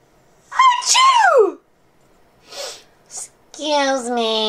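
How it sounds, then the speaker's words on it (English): A cartoonish vocal sneeze with a rising wind-up and sharp burst, followed by short breathy sounds and a high-pitched voice speaking. "Every time she sneezes, she turns into some other crazy blue character!"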